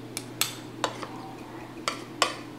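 Pork hamonado siomai filling being mixed in a bowl, a handful of sharp utensil clinks and taps against the bowl at irregular intervals over a low steady hum, close and fairly quiet.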